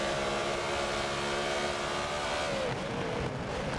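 A BMW Z4 GTE race car engine in a sim racing game at the Nurburg GP circuit drones loudly and continuously, pitch climbing steadily under acceleration, then dropping briefly near the end as the car shifts or lifts.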